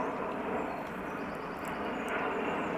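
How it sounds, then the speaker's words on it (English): Airliners on approach near Kew Gardens produce a steady, loud broadband jet roar overhead that holds throughout without fading, outdoors with no talk. "There is a constant stream of planes that come in."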